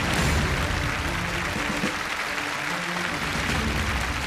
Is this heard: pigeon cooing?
no